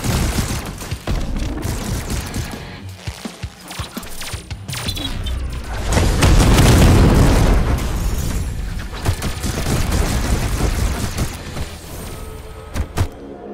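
Explosions and gunfire in the VR shooter Swarm 2 on Quest 3: a dense barrage of booms, bursts and rapid shots that swells to a heavy blast midway, then continues in scattered pops.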